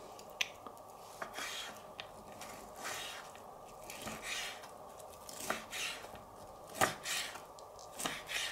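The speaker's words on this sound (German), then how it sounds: "Schneide ich mir meinen Steak in Scheiben." Repeated short crisp cuts and scrapes of a knife slicing steak on a board, irregular in rhythm, close and fairly quiet with no talking.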